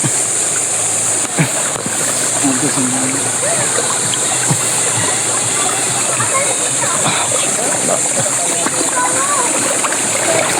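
Water splashing and rushing where people swim at a town fiesta in Calatrava, a constant loud wash of churning water throughout with occasional sharper splashes, people talking and calling out over it.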